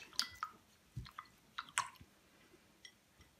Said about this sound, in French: Je rince mon pinceau.